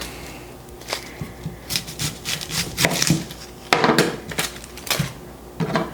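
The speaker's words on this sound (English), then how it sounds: "I'm just going to remove that outer skin." A large sweet onion having its dry outer skin peeled away by hand, with close, irregular papery rustles and crackling tears coming in short bursts.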